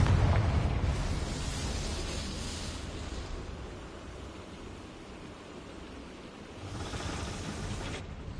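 Confringo blasting spell explosion in the video game Hogwarts Legacy: a broad roaring blast that slowly fades into a rushing rumble, then swells again briefly near the end.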